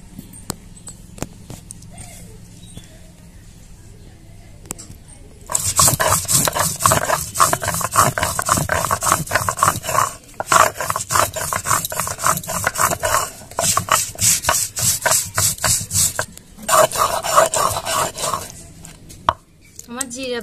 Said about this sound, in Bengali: এবার আমি জিরাটা বেটে নিব।